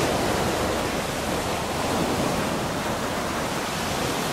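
Ocean waves wash steadily onto a broad palm-lined beach at a Maldives resort, a continuous close, full surf roar with no talk, the sea only moderately rough.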